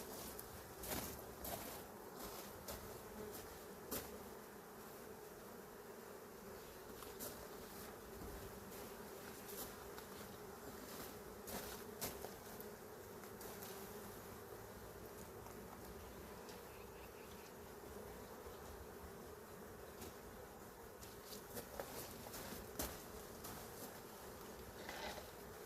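Honeybees swarm around an open hive in a steady, faint, continuous buzzing drone, with individual bees passing close by now and then.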